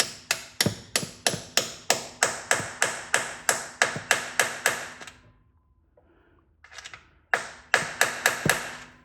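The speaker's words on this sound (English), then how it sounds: "I should just be able to stick this cap over the end of it and drive it home." Rapid, steady hammer blows tap a metal seal cap onto a Buick Grand National 200-4R transmission shift shaft up close, stopping briefly before a second burst of quick strikes resumes.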